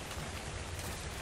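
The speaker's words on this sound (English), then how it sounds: "It's raining." Steady rain falls in the Ark Survival Evolved video game, a dense, even hiss of drops with low rumble underneath, continuous and fairly faint with no pauses.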